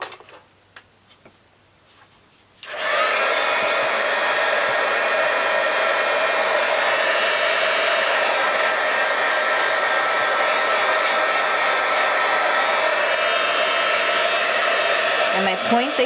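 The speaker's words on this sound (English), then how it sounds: "Point the heat gun under it," A heat gun blows steadily on a small inkjet-printed shrink plastic charm, a loud continuous roaring whoosh that starts abruptly after a few seconds of quiet clicks and runs unbroken to the end.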